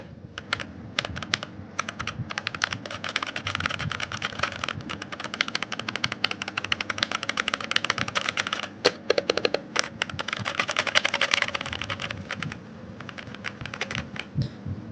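Rapid, steady clacking of a budget white mechanical keyboard, close and fairly loud, continuing for the whole stretch with a short lull near the end.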